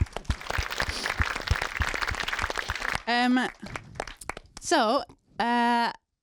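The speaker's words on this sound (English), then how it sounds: "round of applause for everybody who worked on the show" An audience at a House of the Dragon screening Q&A claps for the show's crew, a dense burst of many hands lasting about three seconds before it stops and a voice takes over.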